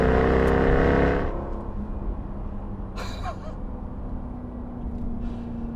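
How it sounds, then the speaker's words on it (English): Jaguar F-Type R75 accelerating hard from 2,000 RPM in second gear: a loud, close engine roar for about a second, then it drops to a distant hum with a brief gasp-like burst. "putting your foot down rewards you with the most dramatic acceleration"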